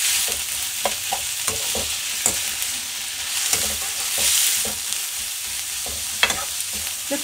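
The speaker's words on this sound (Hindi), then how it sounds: "ये साथ साथ भून लेंगे। पत्ता गोभी ना ज़्यादा नहीं पकाएंगे," Cabbage and cauliflower stir-fry in a hot pan with a continuous loud sizzle, broken by repeated sharp spatula scrapes and taps in an irregular rhythm.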